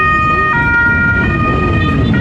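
A loud police siren on a Naples street cycles between two pitches in steady stepped tones, close and dominant over the low road rumble.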